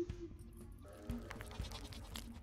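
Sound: ghost goat bleating in Sally Face video game

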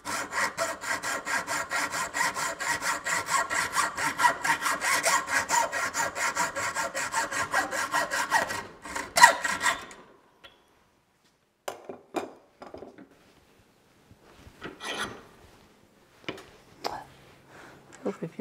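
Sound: sawing a wooden dowel locating pin

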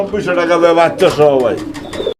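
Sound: Bombay pigeons cooing

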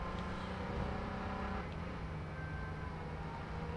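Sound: car driving in the video game H1Z1

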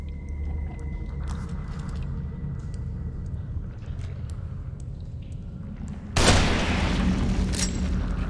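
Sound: sniper rifle shot in The Evil Within video game

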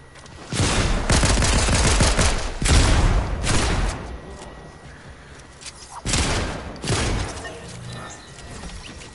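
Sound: gunfire in a video game (Call of Duty)

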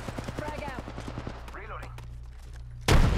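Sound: gunfire in Apex Legends video game

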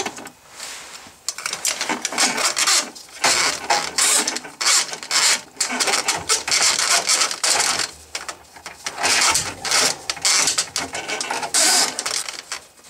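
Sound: drain snake being fed into a clogged drain pipe

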